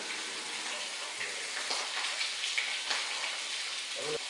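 A salmon fillet fries in a hot pan, giving a steady, close crackling sizzle with small pops and spits throughout, while a voice speaks faintly in the background.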